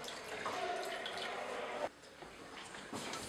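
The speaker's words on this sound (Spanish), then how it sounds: "Venga, hombre, echa el agua." Water poured from a container in a domestic setting, a soft, steady trickling splash lasting a couple of seconds before stopping abruptly, with quiet room noise after.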